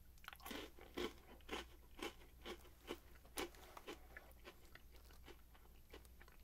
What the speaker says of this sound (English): good basic crunchy cookie. A nice soft chocolate center.